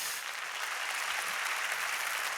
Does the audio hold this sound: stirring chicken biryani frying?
no